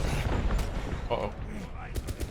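Gunfire aimed at the player in a Call of Duty-style shooter, rapid bursts and booming shots crackling through a busy game mix with a voice speaking over it.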